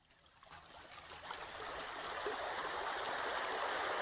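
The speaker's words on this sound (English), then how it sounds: "The water's just coming in gently here." Gentle incoming tide water washes onto the shore on a sunny afternoon. It is a soft, steady wash that slowly grows a little louder, with no voices.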